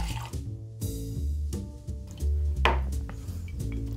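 Two ounces of gin is poured into a glass, giving soft liquid trickles and drips with faint glassy clinks, quiet and close.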